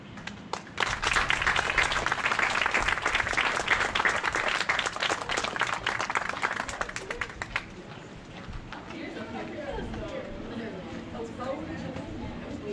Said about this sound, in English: Let's give our seniors one more round of applause